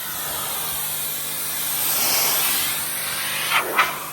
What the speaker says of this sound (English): Truck's getting power washed on this side now.